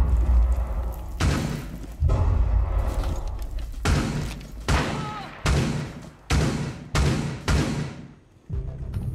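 A frag grenade detonation in Rainbow Six Siege, set amid a run of heavy booming blasts and thuds that come in several loud bursts across the clip, with game gunfire and impacts around them.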